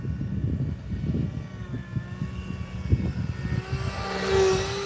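RC V-22 Osprey model aircraft flying past outdoors, its engine drone steady and fairly close, swelling briefly with a rising whine near the end as it passes.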